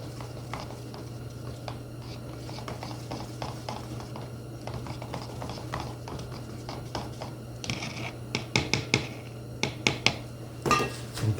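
Varnish being quickly stirred with thinner in a small container while finishing a wooden jewelry box: light scraping and tapping clicks, growing more frequent toward the end, over a steady low hum.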